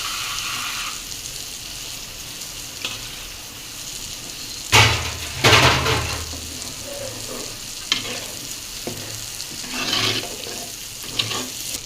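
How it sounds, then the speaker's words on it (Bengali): Liquid poured into a sizzling pan of chicken curry sets off sudden loud bursts of hissing and bubbling over a steady frying crackle, followed by a few stirring scrapes. "মাংস কষানো শেষ এবার একটু ঝোল ঝোল দিয়ে দিচ্ছে"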